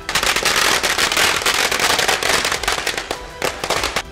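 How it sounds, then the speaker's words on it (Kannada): Firecrackers burst in rapid, dense strings of sharp cracks during a political celebration on a main road, loud and continuous, with a busy outdoor crowd atmosphere. "ಕನಕಪುರ ಮುಖ್ಯ ರಸ್ತೆಯಲ್ಲಿ ಜೆಡಿಎಸ್ ಕಾರ್ಯಕರ್ತರು ಪಟಾಕಿ ಸಿಡಿಸಿ ಸಂಭ್ರಮಿಸಿದ್ದಾರೆ"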